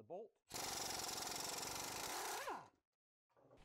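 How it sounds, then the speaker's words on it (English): Impact gun spinning an 18 mm socket on a strut bolt of a Saab 9-3 front suspension: one loud, harsh, rapid hammering burst of about two seconds, close up, framed by brief speech before and after. "Then we use my impact gun and an 18 millimeter socket on the bolt."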